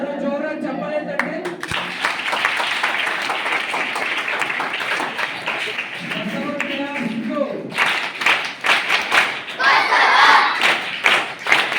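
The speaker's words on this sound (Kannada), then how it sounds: "ಎಲ್ಲರೂ ಜೋರಾಗಿ ಚಪ್ಪಾಳೆ ತಟ್ಟಿ" A crowd claps hard at a religious Basava Panchami gathering, with steady massed clapping and thuds running throughout, a voice briefly heard over it, and a louder flurry of claps near the end.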